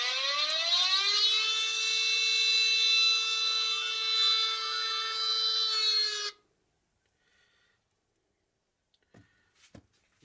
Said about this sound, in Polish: syrena się wyłączy i włącza drugi raz, dostaje impuls